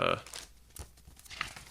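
A plastic bag holding a harsh noise music release with a fold-out poster crinkles and tears in a few sharp, brittle bursts, loudest at the start and then in scattered smaller rustles.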